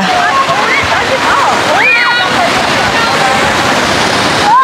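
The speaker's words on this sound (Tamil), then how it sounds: "அந்த பக்கமும் தண்ணி தான் ஓடுது" Rushing water splashes steadily throughout, with voices talking and calling over the continuous flow.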